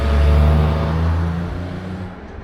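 A police car drives past on a street in Kremenchuk, its engine hum rising loud and close, then fading away over a couple of seconds.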